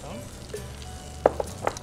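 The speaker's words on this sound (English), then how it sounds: "Throw a little bit of pesto in here, enough to allow us to toss this around and mix it up." Pasta being tossed with pesto and heirloom tomato in a pan, giving a soft sizzle with a few sharp clatters of stirring near the end.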